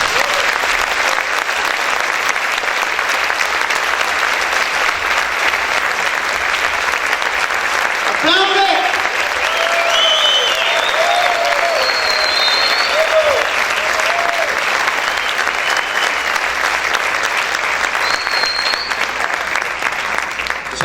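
Loud, sustained clapping fills a church congregation for about twenty seconds, with a few cheering voices rising briefly midway over the steady applause.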